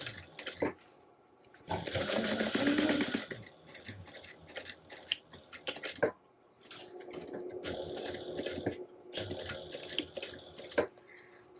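A sewing machine stitches closed three sides of a fabric crossbody bag, running in several bursts of steady, rapid mechanical stitching separated by short pauses and faint clicks.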